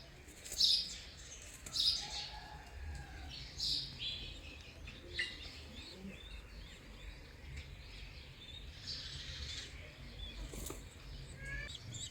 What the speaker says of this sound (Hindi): लक्के कबूतरों के बच्चे निकले हुए हैं